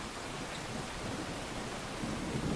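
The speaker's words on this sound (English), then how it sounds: "For the meantime, hear the rain." Steady rain hisses evenly throughout, a dense, unbroken wash of falling water without pauses.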